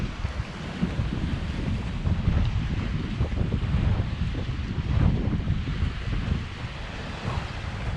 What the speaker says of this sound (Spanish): El día de hoy hay viento, entonces posiblemente por eso hay un poco más de oleaje.